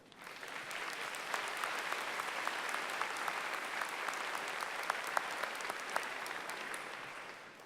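A crowd applauds steadily for several seconds at a spring university commencement ceremony, the clapping dense and even before tapering off at the end.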